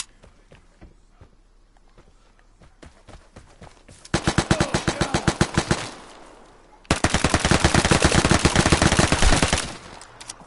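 Automatic weapons, including an Uzi, fire in the Vigor free-to-play shooter on PS4: loud, rapid bursts of close gunfire with a brief pause between two long sprays, preceded by scattered single shots and footsteps.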